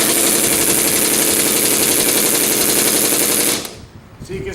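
An Ingersoll Rand 231C air impact wrench set to its lowest power hammers away at a lug nut in one loud, continuous rattling burst that stops abruptly, leaving faint hiss behind.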